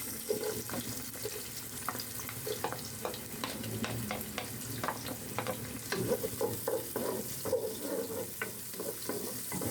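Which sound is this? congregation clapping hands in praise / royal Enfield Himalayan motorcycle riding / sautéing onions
sautéing onions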